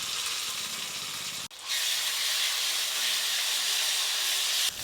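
Bottle gourd peel paste hits a hot pan of fried onion and garlic paste, setting off a loud, steady sizzle that runs with almost no break.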